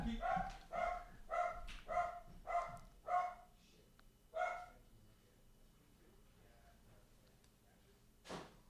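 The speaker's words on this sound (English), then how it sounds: "The dog's attacking." A dog barks in a quick run of about seven sharp barks over four seconds, fairly near, then falls quiet apart from faint background noise and a brief sound near the end.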